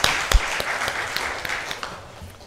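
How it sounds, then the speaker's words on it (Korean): Applause from a church congregation during a Sunday morning service, a steady wash of many hands clapping with a few sharper claps standing out, moderately loud and heard alone. "함께 영광의 박수 올려드리겠습니다."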